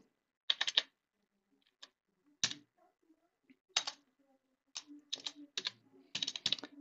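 Typing on a computer keyboard, heard up close in short bursts of quick key clicks separated by pauses, with a faint murmur in the background.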